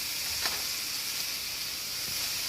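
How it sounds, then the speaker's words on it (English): Vegetables lightly coated in grapeseed oil sizzle steadily in a pan, a soft continuous hiss with a couple of faint pops, alone without talk. "to let that sizzle down and cook"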